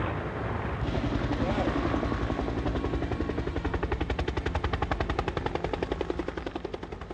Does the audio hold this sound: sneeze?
no